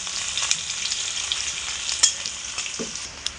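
Onions fry lightly in a pan with a steady, close sizzle and soft crackling, punctuated by a few faint utensil taps, with no voices.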